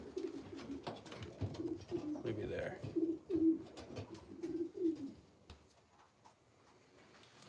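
Breeding pigeons in a loft, soft low cooing repeated in short bursts close by, with brief talk and small handling noises, then quieter near the end.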